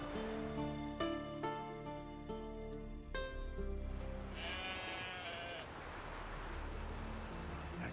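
A sheep bleats in the fantasy RPG The Witcher 3: Wild Hunt, with one wavering, moderately loud bleat following plucked musical notes from the game score, over a soft windy ambience.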